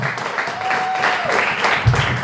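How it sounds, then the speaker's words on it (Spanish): A congregation claps at a church service, a steady wash of applause with a faint voice in the background. "Denle fuerte ese aplauso."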